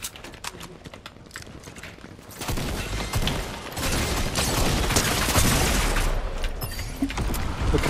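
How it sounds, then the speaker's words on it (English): Fortnite gunfire from another player erupts as a dense, loud rattle of shots that keeps going for several seconds after a quieter opening of sharp clicks and taps. "Someone else is shooting at us."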